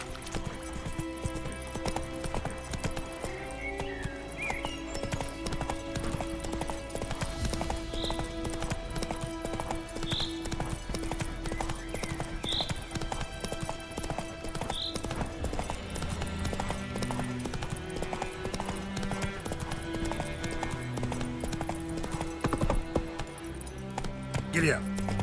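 Roach, the horse in The Witcher 3, gallops with steady rhythmic hoofbeats, close and continuous, over a bed of game music, with a few brief vocal calls.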